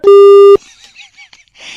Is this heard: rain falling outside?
no